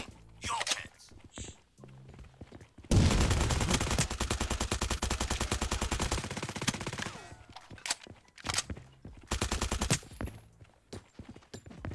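Loud gunfire in the Turkish online shooter Sabotaj: a sustained burst of rapid automatic fire lasting several seconds, with scattered single shots and short bursts before and after it.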